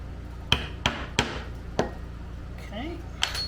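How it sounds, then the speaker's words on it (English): Hole punch struck through cowhide leather for a fringed bag: five sharp, separate knocking thwacks at irregular intervals, close and crisp, with a brief faint voice-like sound near the end. "Grab me a big old hole punch here."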